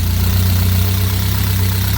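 A 1979 Fiat Spider 124 engine runs steadily just after a carburetor idle adjustment, a close, even low drone with slightly raised revs and no voices.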